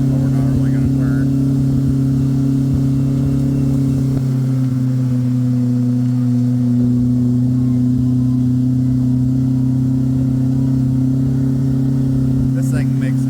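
Turbocharged Pro R car running a LaRue stand-alone ECU and turbo kit, heard from inside as a steady, droning engine note with a strong low hum, holding a fairly constant pitch while underway.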